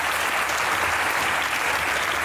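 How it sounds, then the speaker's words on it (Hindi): Loud, dense applause from a television studio audience during a talk-show interview, a continuous even wash of clapping with no talk over it. "तालियां होनी चाहिए।"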